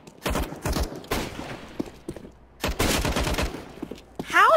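Gunfire in a video game rings out in several sharp, loud bursts of rapid shots separated by brief lulls, with a final burst at the end.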